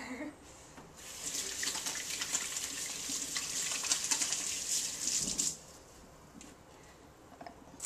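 Tap water runs steadily into a sink as hands are rinsed while making meatloaf, a close hissing splash that starts after a second and stops abruptly near the end, with no talk over it.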